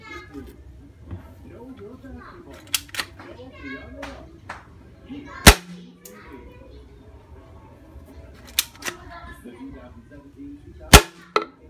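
Pellet gun firing at a target: three sharp, loud cracks spaced several seconds apart, each followed by a brief ring, over quiet background noise and faint movement.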